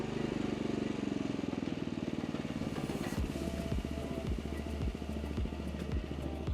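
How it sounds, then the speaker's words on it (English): Petrol pressure washer motor idling steadily, then its speed is turned down so the engine note drops into a slower, evenly spaced chugging thump; close and continuous, with no talk. "I also want to turn the motor speed down"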